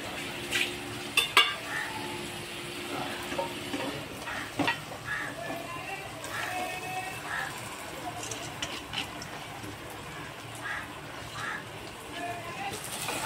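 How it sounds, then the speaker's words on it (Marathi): Raw chicken is tipped into a pot of sizzling masala on low gas and stirred, with a steady fry hiss, scraping spoon strokes and a few pot clatters at close range, while a voice speaks intermittently. "आता मी 2 मिनटं गॅस बारीक करणार आहे आणि चिकन टाकून घेणार आहे।"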